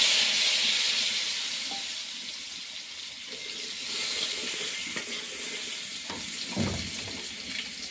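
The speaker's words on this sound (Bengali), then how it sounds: "হ্যাঁ হালকা একটু আলুটা ভাইজা নই।" Potatoes fry lightly in a pan with a steady, hissing sizzle, moderately loud and continuous, with occasional clinks and a stirring scrape near the end.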